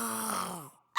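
A voice imitates a lion's roar for a children's jungle story, giving one drawn-out, low, growling groan that trails off into silence before another sound begins.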